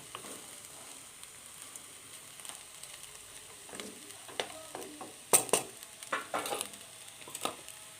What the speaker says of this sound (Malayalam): ഒരു ഫോർക്കും ഉണ്ട് ഇങ്ങനെ നൂഡിൽസൊക്കെ ഇളക്കുന്നത് പോലെ ഇങ്ങനെ ഇളക്കി കൊടുക്കുക